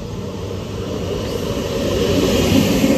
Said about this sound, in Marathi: मस्त ट्रेन आलेली आहे बघा.